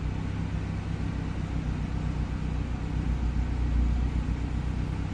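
A carbureted car engine idles steadily near 850 rpm as its air conditioning is switched on. The low, even rumble runs unbroken and close throughout, swelling slightly partway through.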